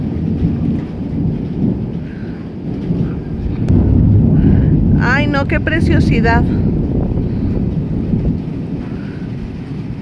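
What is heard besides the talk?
thunder and rain in a thunderstorm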